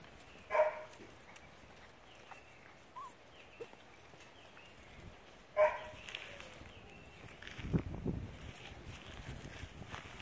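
Puppies yip and bark in a few short, scattered bursts outdoors on a cool morning, fairly faint against quiet background noise.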